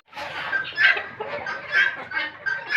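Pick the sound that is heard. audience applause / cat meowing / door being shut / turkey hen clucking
turkey hen clucking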